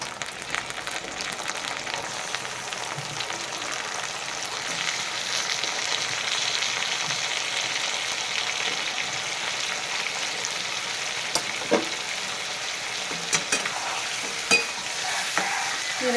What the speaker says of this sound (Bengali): লাল লাল করে পেঁয়াজটা ভেজে নেব মাংসটা দিয়ে দিলাম